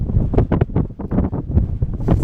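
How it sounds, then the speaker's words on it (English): Strong wind buffets the microphone in rough, rumbling gusts that roar and flutter continuously throughout. "It's windy, as you can tell"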